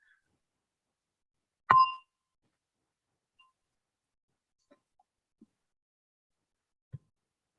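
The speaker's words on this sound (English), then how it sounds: "So with the gong, we'll practice." A single meditation gong struck once, a clear bright ring that fades within a second, followed by near silence with a few faint soft knocks.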